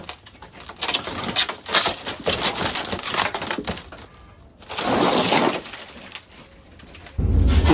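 Glass crunches and shatters as the rear window of a car breaks during roof removal, with scattered cracking and pattering bursts, a heavier crash near the middle and a brief pause before another loud hit.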